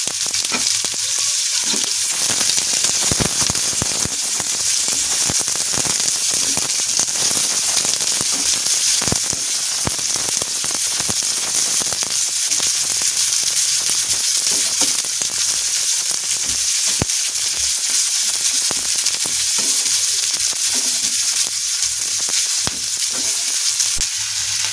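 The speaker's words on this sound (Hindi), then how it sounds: "जब तक हमारे ये प्याज भूनते हैं" Chopped onions and ginger pieces fry steadily in hot oil after garlic, for a malai kofta gravy, giving a loud, continuous crackling sizzle with occasional sharper pops throughout, no voices.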